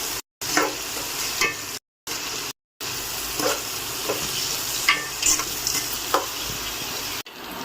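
Onions fry in a pan for chicken biryani, browning in a continuous sizzle broken by scraping stirs, with a few abrupt cuts to silence.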